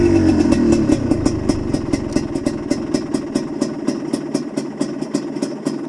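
A GPX TSE 250R motorcycle engine idles at a fairly low tickover, a steady close putter with even rapid pulses that holds alone throughout.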